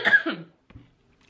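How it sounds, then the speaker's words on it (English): One short, sharp cough from a woman recovering from a cough, close and clear, followed by a faint small bump and quiet. "still getting over my cough"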